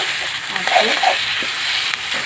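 Mutton frying in a pan as it cooks for a mutton curry, a steady close sizzle with faint stirring scrapes and no talk.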